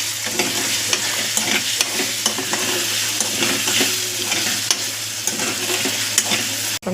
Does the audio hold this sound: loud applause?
no